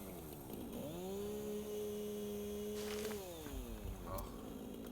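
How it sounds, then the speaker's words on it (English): A chainsaw in the video game Satisfactory revs up and holds a steady, buzzing drone for a few seconds before winding down, fairly loud against a constant game background. "Luckily we do have a chainsaw."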